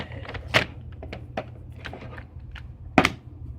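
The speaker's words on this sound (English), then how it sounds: "Throw the mag in" A magazine is pushed into a WE Glock 18c airsoft pistol. Small plastic and metal clicks and knocks are scattered throughout, with two sharper snaps standing out, close-up and quiet otherwise.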